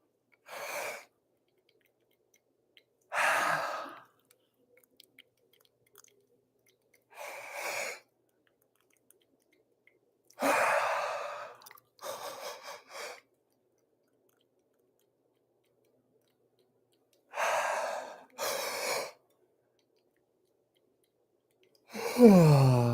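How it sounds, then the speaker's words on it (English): Several long, breathy yawns with open-mouthed exhalations come one at a time, separated by quiet pauses, during a slow fascial stretching session. "Even better, make it into some big yawns."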